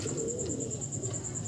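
A pigeon at a loft in Payradanga, Nadia, gives a low, soft coo under a constant high electronic whine and steady background noise, brief and fairly quiet.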